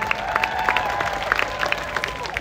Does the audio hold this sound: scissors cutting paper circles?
no